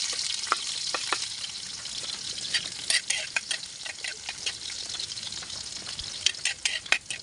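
Garlic fries in a little cooking oil in a pan, giving a faint, steady sizzle with scattered crackles and occasional stirring scrapes close by.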